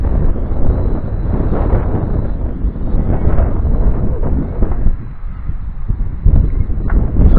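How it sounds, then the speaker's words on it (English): A steady, loud wind buffets the microphone outdoors on a sunny day during a line-of-sight drone flight, a continuous low rumble that swells and dips slightly, with no speech. "There is still a bit of wind about."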